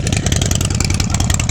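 A motorcycle's loud exhaust rumbles close by, a throbbing engine pulsing at a quick steady rhythm that swells slightly as it revs, with no talk over it.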